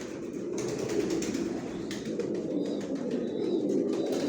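Pigeons in a loft keep up a soft, continuous cooing chorus, several birds overlapping in a low murmur with faint higher chirps and rustling mixed in, no speech.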